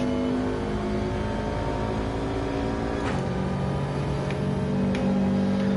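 A race car engine hums steadily and revs in Gran Turismo 7, a continuous close drone with slight pitch shifts and a few faint clicks, no talk.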